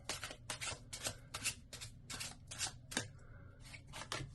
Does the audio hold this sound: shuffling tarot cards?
yes